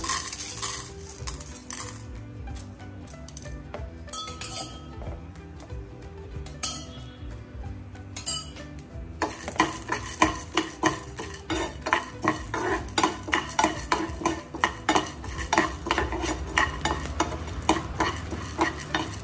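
Chana dal and urad dal tipped into a hot pan for bisibelebath and stirred, giving steady scraping and clinking of a spoon on metal that grows louder and busier midway, with no talk.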